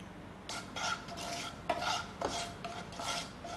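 Wheat rava dry-roasted in a pan and stirred: repeated scraping, rasping strokes of a spoon across the grainy semolina in a rhythmic back-and-forth, close and moderately loud, with no talking.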